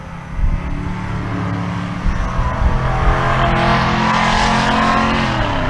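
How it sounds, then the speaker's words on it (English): A second-generation Chevrolet Camaro drag races in the right lane at a Pueblo, Colorado drag strip, its engine roaring hard and accelerating with rising pitch as it passes close and loud. "Second gen Camaro in the right lane."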